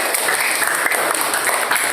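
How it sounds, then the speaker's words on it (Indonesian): A classroom of students claps for a group of classmates, a brief burst of steady, close-sounding applause filling the whole moment. "Tepuk tangan untuk kelompok 5."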